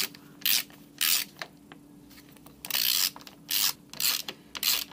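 Bolts come off the clutch cover of a ZM Tracer 300 2T motorcycle with about seven close, loud bursts of raspy ratcheting, separated by brief pauses.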